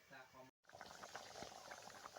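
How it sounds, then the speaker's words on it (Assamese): Chicken curry cooked with bhedailota simmers in a covered pot, making a soft, continuous bubbling and gurgling. A voice is briefly heard at the start before the boiling carries on alone. "এয়া উতলি আছে"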